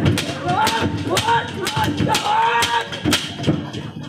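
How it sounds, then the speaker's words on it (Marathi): During a Marathi folk theatre comedy performance, a bull gives drawn-out, wavering bellows mixed with sharp percussive knocks and crowd noise, loud and close throughout. "अरे कोणता बैल डुराकला?"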